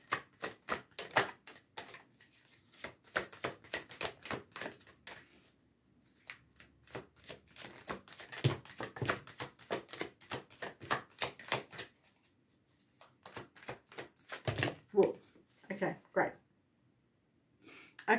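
Oracle cards are shuffled in repeated bursts of quick, papery riffling and flicking, with short pauses between rounds and a soft voice speaking at times.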